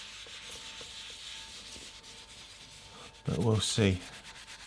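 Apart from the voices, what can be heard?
scrubbing a surface with Bar Keepers Friend powder and water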